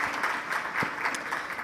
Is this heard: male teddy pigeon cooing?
no